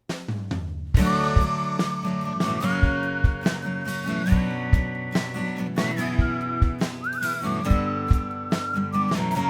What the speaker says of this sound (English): then he came with the idea of doing a whistling